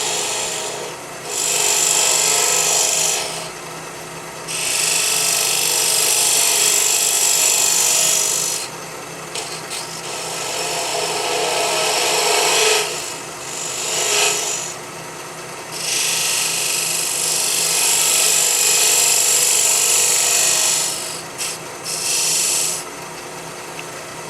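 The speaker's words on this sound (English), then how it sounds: "I'm going to use a little detail gouge, a little detail tool." Small detail gouge shaving wood while shaping a custom walking stick cap, giving repeated close rasping cuts in bursts of a few seconds with short pauses between strokes, no talking.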